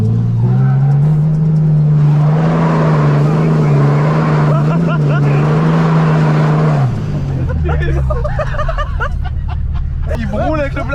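A car towing a flatbed revs hard as it accelerates, with a loud steady engine drone that drops in pitch and fades. Excited voices and laughter run over and after it, recorded close outdoors.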